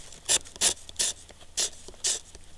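Wood scraped out of a plowstick fire board in short, rasping strokes, five distinct bursts in a steady rhythm, close and fairly loud with quiet gaps between.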